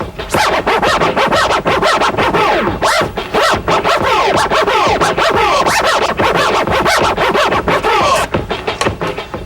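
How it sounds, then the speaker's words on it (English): Repeated DJ tear scratches on a turntable record, the record pushed forward once and pulled back in two strokes, giving a fast, continuous run of close, loud scratching. "your most basic tear or most common tear is the 1 forward, 2 back, which means that you push the record forward once"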